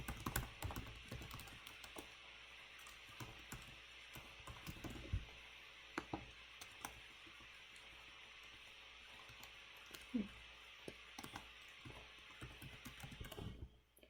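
Light keystrokes on a computer keyboard as an Apple ID and password are entered, scattered irregular clicks in short bursts over a steady faint room hiss, close and quiet, with no talking.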